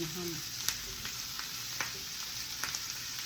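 Ham frying in a pan, seasoned with chili red powder and onion, gives a steady close sizzle with a few sharp crackles and spatters throughout.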